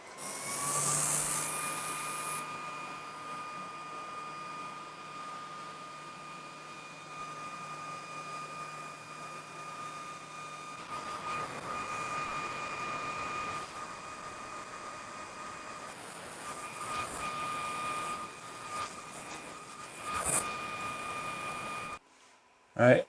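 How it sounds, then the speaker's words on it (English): A dust extractor runs beside a ComMarker B4 20W fiber laser engraver, giving a steady, fairly loud motorized drone with a faint whine that roughens midway and continues without pause to the end. "Get our dust extraction going, and let's send this off and start the color test."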